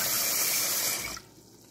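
Water runs from a kitchen tap while rice is washed for loco moco, a steady loud gush that cuts off and drops to a quieter trickle near the end.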